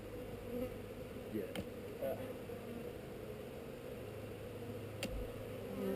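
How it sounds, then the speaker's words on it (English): Steady low buzzing of honey bees during a honey harvest from the hive fills the background, a continuous hum with a couple of sharp clicks standing out. "That bee was a little upset."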